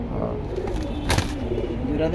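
A red cobra pigeon coos softly within a steady background hum, with brief murmurs and a short scuffle partway through.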